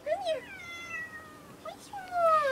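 A pet cat meows several times at close range, drawn-out rising and falling cries with short pauses between them, in a quiet home setting with no talk over it.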